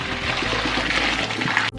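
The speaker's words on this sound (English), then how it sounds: "go ahead and strain your pasta" Pasta and its cooking water pour steadily into a strainer, a continuous loud splashing gush that ends abruptly.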